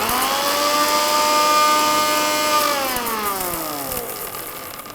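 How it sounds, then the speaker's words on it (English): Electric mixer grinder pulverising dry roasted whole spices into fine powder, a loud steady high whine close by that winds down in pitch as the motor slows near the end. "we have dry roasted the whole masala. Let's grind it to a fine powder."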